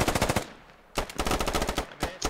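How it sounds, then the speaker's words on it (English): Bursts of rapid machine gun fire in the military shooter game Squad, loud and close, with a short pause before another sustained burst and a final burst. "After, after a hail of gunfire, they started pushing"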